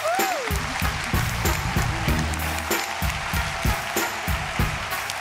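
A studio audience claps in sustained, dense applause on a TV game show, loud and continuous with some music-like tones underneath.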